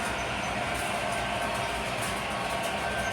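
An MTH model train on conventional power hums and rattles continuously at close range, a steady mechanical drone with faint clicking over the track.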